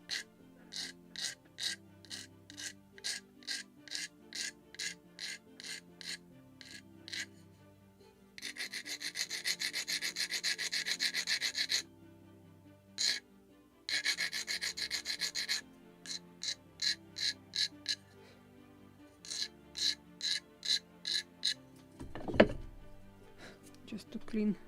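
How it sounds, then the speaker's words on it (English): Rhythmic rasping strokes of a sanding block rubbing wood on a model ship, with short repeated passes broken by a few longer continuous scrubbing stretches and a thunk. "I need my sanding block."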